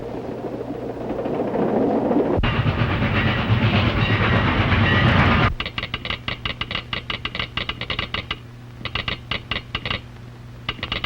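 A passenger train running on rails in a 1929 film: a loud rushing roar, then a steady rhythmic clickety-clack of wheels over rail joints, with no voices.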